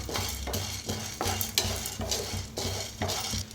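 Chana dal being roasted and stirred in a pan makes a steady, close rhythm of scraping strokes, roughly two a second, with dry rattling grains and a light sizzle.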